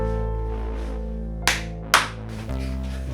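Two sharp hand claps sound close and loud over a steady low hum as a recording sync cue, the second a little stronger.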